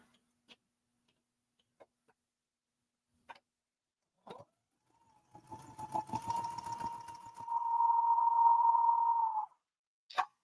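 A sewing machine stitches half square triangle quilt pieces after a few isolated clicks, running in a quiet room with a rapid mechanical whir that builds and holds steady for several seconds before stopping.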